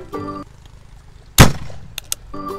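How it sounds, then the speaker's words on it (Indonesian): A single sharp, loud bang bursts out and fades as a methylated-spirit firecracker explodes, followed by a couple of faint clicks, with quiet background before and after. "kita panasi dulu mercon spiritus menggunakan saringan"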